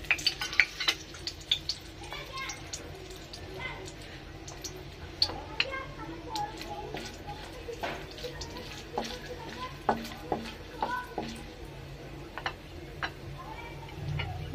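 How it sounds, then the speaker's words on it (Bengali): Whole cardamom, cinnamon and bay leaf dropped into hot oil in a pan while cooking rui fish head muri ghonto, giving a steady faint sizzle with scattered crackles and ticks as a voice talks over it. "তেলটা গরম হয়ে গেছে। এর ভিতর দিয়ে দেবো গোটা মশলা, এলাচ, দারচিনি, তেজপাতা।"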